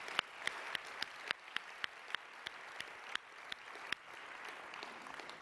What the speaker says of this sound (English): please join me in a round of applause for John's award-winning efforts